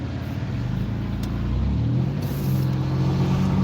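Steady rumble of many cars moving through a busy junction, a continuous low engine drone with passing vehicles swelling and fading, heard from inside a car driving in traffic.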